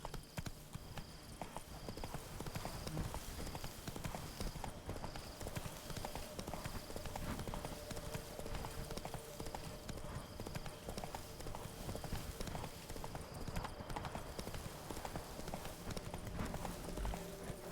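Hooves clip-clop steadily as a horse is ridden in a video game, a continuous rhythmic trot running throughout under game ambience, with faint voice in the background.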